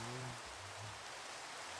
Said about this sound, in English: And there's the rain. I hate the rain.